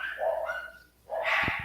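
Dogs in a residential neighborhood give two short barking bursts separated by a brief pause, somewhat distant, followed by a few low knocking thumps.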